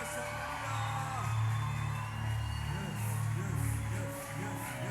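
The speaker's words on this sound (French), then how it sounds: "aidez-moi à pousser des cris de joie" A church congregation at a prophetic prayer gathering shouts cries of joy, with overlapping whoops and yells swelling in repeated loud bursts over a dense crowd roar that lasts the whole span.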